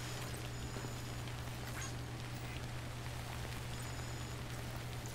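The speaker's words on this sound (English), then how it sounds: "Can I not save because it's raining?" Steady rain in the video game Death Stranding hisses and patters evenly throughout, with a low constant hum underneath and no voices.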